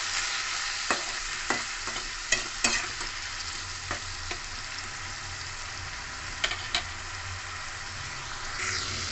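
Potatoes coated in spice paste fry and are stirred in hot oil for Odisha-style doi bara aloo dum, giving a steady close sizzle with repeated sharp scrapes and knocks of the spoon against the pan.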